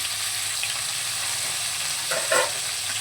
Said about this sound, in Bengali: ফুলকপিটাকে এবার ভালো করে ভেজে নেব।